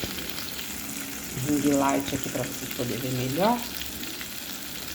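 Tilapia fillet frying in a pan with a steady hiss of sizzling oil, while a person talks over it.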